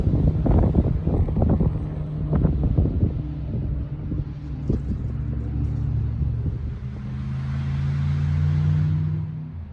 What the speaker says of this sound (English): There's a lot of wind today